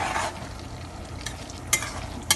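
A spoon scrapes through eggplant and goat meat in a pot over steady frying sizzle, with a few sharp utensil knocks against the pot's side.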